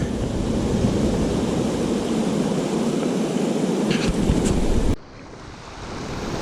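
Steady rushing stream water fills the scene along the Chimney Tops Trail, a broad wash of flow close by below a bridge, with a brief dip in level near the end as wind noise shifts.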